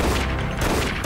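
Pistol fire in the zombie shooter game Dead Effect, a dense burst of loud, close shots running continuously through a short moment with no pauses.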